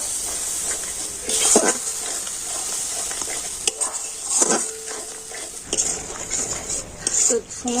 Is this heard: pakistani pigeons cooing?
no